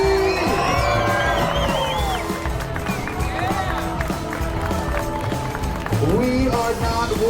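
A large outdoor crowd at a BMX, skateboarding and in-line skating exhibition cheers and whoops for a skater, with sustained loud roaring and shouts, and an announcer talking over the noise.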